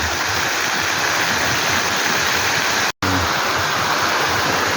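Water pours steadily at Balite Falls in Amadeo, Cavite, a spring-fed waterfall, making a loud, continuous rushing wash with no voices, broken only by a brief dropout near the end.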